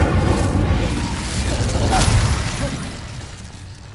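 Incendio fire spell cast in the Hogwarts Legacy video game, a loud burst of roaring flame and whooshing noise that swells around the middle and then fades slowly.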